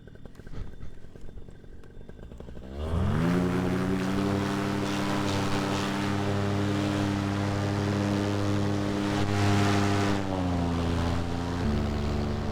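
A Moster MY25 paramotor engine starts after a few seconds of quiet and builds to a loud, steady throbbing roar close by as it takes off on its maiden flight, its pitch briefly dipping near the end.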